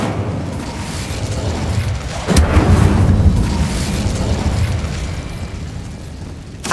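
An Incendio fire spell bursts in Hogwarts Legacy, a sustained low rumble broken by a sharp, loud whooshing boom partway through and another sudden burst at the very end.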